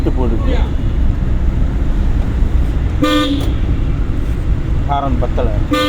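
A car horn blares twice in the middle of a driving lesson, a steady toot a few seconds in and a shorter honk near the end, both over constant road and engine rumble inside the car.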